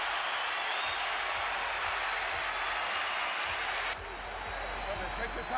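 A boxing arena crowd roars and applauds steadily through a title fight, loud and continuous, with a commentator's voice over the noise.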